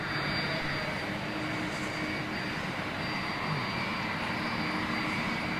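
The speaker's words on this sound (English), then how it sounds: "Familiar sound of the RB211s that we're so used to hearing as they taxi up for departure on 27 right." Rolls-Royce RB211 jet engines on airliners taxiing for departure on runway 27 right make a steady, loud, continuous whine and roar at moderate distance, with no talking.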